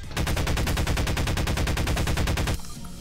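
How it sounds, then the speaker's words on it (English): Rapid automatic gunfire in a video game, a fast, evenly spaced burst of close, loud shots lasting a couple of seconds before stopping abruptly. "Sorry, Ant-Man, I shot you."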